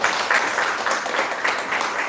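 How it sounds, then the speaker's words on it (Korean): Audience applause at a Korean safety-education lecture, a steady crowd clapping that holds evenly for about two seconds at moderate level, alone with no talk. "박수 한번 쳐주시습니다"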